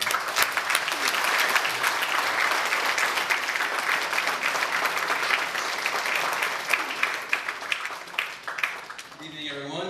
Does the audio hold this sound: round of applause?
yes